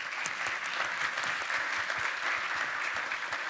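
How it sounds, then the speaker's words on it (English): Conference attendees at a talk on AI in insurance applaud the speakers with dense, even clapping that carries on steadily and fairly close for the whole stretch, with no talking. "A big applause for our speakers."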